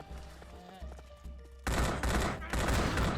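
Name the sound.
gunfire shooting the undead in video game Land of the Dead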